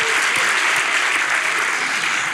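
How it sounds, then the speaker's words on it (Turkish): Dense, continuous applause from a television studio audience, loud and even throughout with no break or pause. "Ha alkışlar önce."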